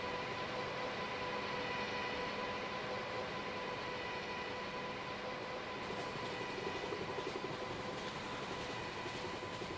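A Karnavati SuperFast Express (12933) hauled by a WAP7 electric locomotive runs at speed between Mumbai Central and Surat, giving a steady, dense rush of rail and wheel roar with faint clatter throughout, no voices.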